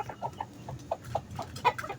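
Chickens cluck softly while feeding at evening feeding time, a scatter of short, low clucks and brief higher calls in quick irregular succession, close by and fairly quiet, with no talk.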